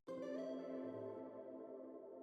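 Electric guitar lick with a sharp plucked attack, then sustained, reverb-washed notes that ring out and slowly decay, panned off to one side; a single phrase with no voices.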